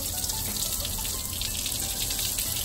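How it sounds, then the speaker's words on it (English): Water gushes steadily out of a cut-open Saab 9-3 radiator, a constant loud rushing splash that stays even throughout with no talking. "So now we're gonna fill it and watch water come out."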